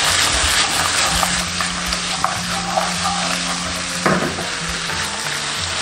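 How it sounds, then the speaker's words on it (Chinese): Pork ribs stir-fried in a wok over high heat with sauce, scallion whites, ginger slices and a splash of cooking wine give a loud, steady sizzle, with spatula scrapes and a sharp metal clank near the end. "大火翻炒"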